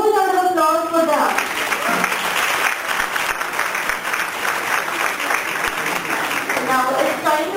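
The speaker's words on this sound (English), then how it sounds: "giving them a very huge round of applause for them" A speaker's voice trails off and gives way to a big round of applause from the audience at an international college conference, steady and full for several seconds before voices return near the end.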